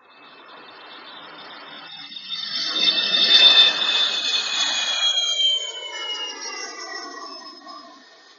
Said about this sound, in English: it is an aeroplane flying by